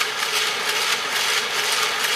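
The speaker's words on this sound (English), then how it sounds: "There's the drive shaft going." A 3D-printed drive shaft turns steadily, giving a continuous broadband whirring and rattling hiss with an even rhythm throughout, up close, without speech.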